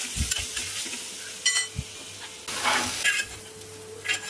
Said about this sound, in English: the second time I'm just sauteing the capsicum and the onions